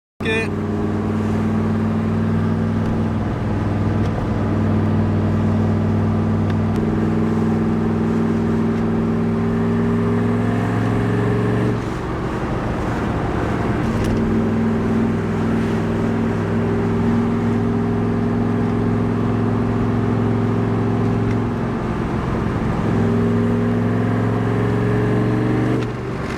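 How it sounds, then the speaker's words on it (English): A turbocharged 2.0-litre car engine drones steadily with the windows down while driving between buildings, swelling in a few revving surges with a hint of turbo spool, and voices come in faintly now and then. "You can just hear that turbo spooling."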